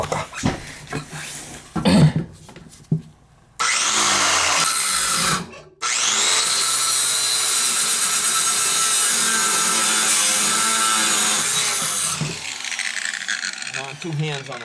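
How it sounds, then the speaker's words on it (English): An angle grinder cuts metal with a harsh, loud, sustained high-pitched grind lasting several seconds, preceded by short bursts and scraping, with someone talking around it in a room being stripped of its oil heating. "I want 2 hands on that grinder."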